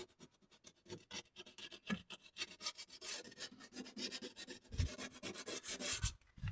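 Bodywork sheet metal on a Peugeot 205 GR being hand-sanded with coarse-grit paper, rapid rasping strokes in an uneven rhythm, close and fairly quiet, with no voices.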